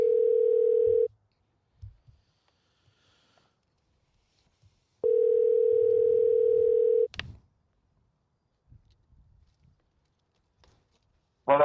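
A steady phone dial tone sounds twice while placing a call, the first burst about a second long, the second lasting several seconds, each one loud and alone with faint rustles in between.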